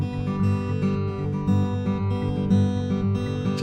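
Acoustic guitar fingerpicks a Travis-style pinch pattern with the last note filled in, a dense, busy alternating-bass rhythm played continuously up close with no talking.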